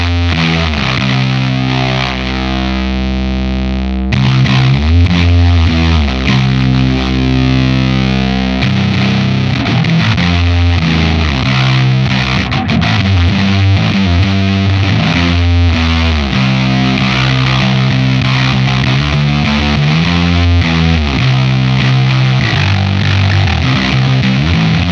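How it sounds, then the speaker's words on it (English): Aggressive distorted bass through a Lantern Manufacturing Sycamore pedal with its bass control turned up for more low end, playing loud sustained notes and riffs with a thick, fuzzy tone; a brief held note opens before the full riff kicks in. "let's go ahead and add in some more low end to see how that bass control really fills out the sound"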